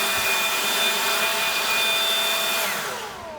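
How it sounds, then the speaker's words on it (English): A cordless leaf blower running on a CellMaster 20V battery, a loud steady whooshing whine close by that holds level and then begins to wind down at the end. "I even tried it with my blower here,"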